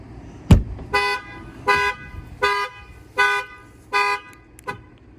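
Ford F-250 factory alarm arming: a sharp clunk of the locks, then a series of about five short, evenly spaced horn toots, loud and close outdoors.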